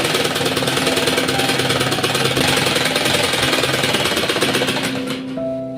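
A sewing machine stitches a straight seam on a shirt collar for a child's designer shirt, running loudly and steadily without a break for about five seconds before easing off at the end.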